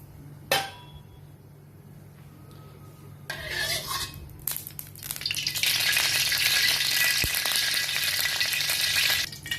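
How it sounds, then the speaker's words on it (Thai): A metal pan clanks, then oil crackles and sizzles loudly and steadily as wide rice noodles are stir-fried in it for pork rad na, close by, with occasional scraping. "ตั้งกระทะใส่น้ำมันนะคะ เรามาผัดเส้นใหญ่กันค่ะ"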